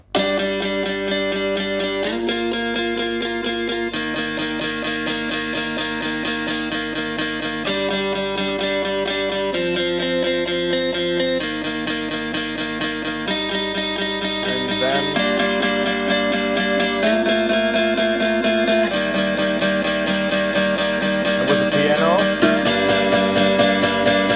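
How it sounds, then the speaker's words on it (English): Clean electric guitar plays steady rhythm chords that change every couple of seconds, each one ringing on with a soft echoing tail, with no voices. "it sounds like this, like a rhythm guitar."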